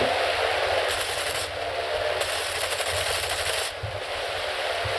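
Aircraft machine guns strafing in War Thunder: rapid bursts of gunfire over a steady engine drone, with a few short pauses between bursts, fairly faint in the mix and without voices.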